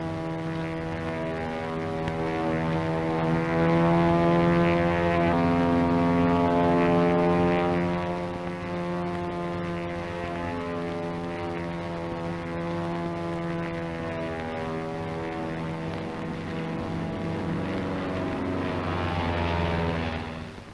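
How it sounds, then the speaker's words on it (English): A P-40 propeller fighter plane flying, its engine drone steady and loud throughout, with a deep, sustained tone that swells slightly and then holds before fading at the end. "Sure, it's a P-40."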